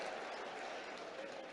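Audience applause at a health services conference in Bhopal, a dense steady wash of clapping from a crowd, sustained and even throughout.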